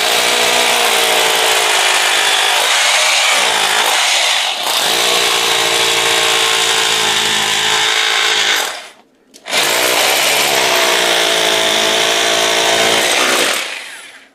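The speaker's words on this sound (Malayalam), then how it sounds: "നമ്മൾ ഈ ഒരു എണ്ണൂറ് വാട്ട്സ് ആമറിൻ മെഷീൻ ഞാനൊന്ന് ഇതിനകത്ത് നമ്മുടെ ഇൻവെർട്ടറിൽ വർക്ക് ചെയ്ത് നോക്കിയാണ്" An 800-watt power tool running off a hybrid solar inverter, a loud, close, steady mechanical whine with a strong harmonic hum that drops out briefly near the end before starting up again at full speed.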